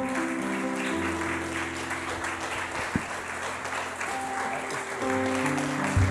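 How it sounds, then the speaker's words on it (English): A church congregation claps steadily during a worship service while sustained musical tones play underneath, with a sharp single thump midway and the clapping swelling toward the end. "Father, you clap real loud."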